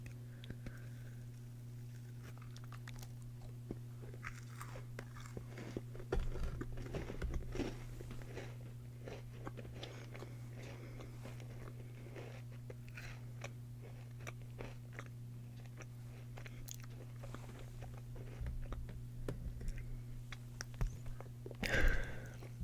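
Close, quiet bites and crunchy chewing of a spiced apple cider muffin cookie with apple cider glaze and cinnamon brown sugar streusel, soft mouth sounds over a low steady hum, growing louder near the end.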